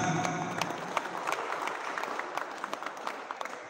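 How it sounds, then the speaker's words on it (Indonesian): Audience applause at the opening ceremony of a regency sports championship, a moderately distant, steady patter of many hands with scattered sharper claps, continuing evenly for a few seconds without speech. "Tepuk tangan."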